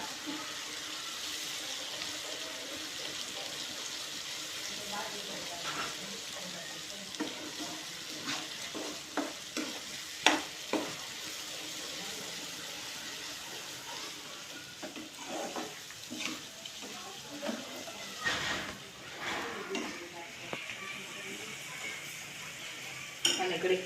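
Onions sizzle in a pan with ginger-chili paste and a little water, a steady soft frying hiss with repeated scraping stirs and occasional utensil clinks, close and moderate in level.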